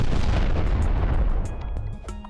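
A grenade blast in the Farworld Pioneers video game: a loud, rumbling explosion that fills the first half and then decays into a lower, fading tail.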